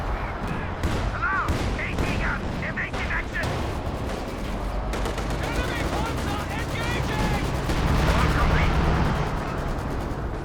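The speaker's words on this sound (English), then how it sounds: "light artillery barrage on the AAAT guns" A light artillery barrage in the Company of Heroes 2 video game pounds anti-tank guns in a 2v2 match, with repeated shell blasts and scattered gunfire going on steadily under a caster's excited commentary.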